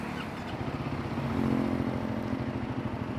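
A Royal Enfield Guerrilla 450 motorcycle engine idles steadily and smoothly, a close, even low thumping pulse that holds at a constant level without revving.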